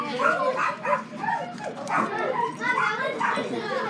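Several small dogs in a pet store yip, whimper and bark in short bursts, mixed with people cooing and chatting excitedly nearby.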